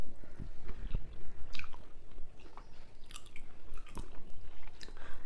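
Someone biting into and chewing hot, freshly made chicken fry, close-up wet chewing and crunching with occasional sharper bites, continuous and fairly loud.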